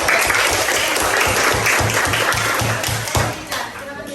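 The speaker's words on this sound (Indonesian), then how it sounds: "Oke, tepuk tangan semuanya." A classroom of students claps together in a lively burst during a lesson, loud dense applause with a rhythmic low thumping beneath it that tapers off toward the end.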